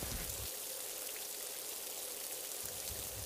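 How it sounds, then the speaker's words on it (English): Heavy rain pours down in a forest where lion cubs shelter, a dense continuous hiss of drops with no voices. "Each of whom has to defend against the cold raindrops."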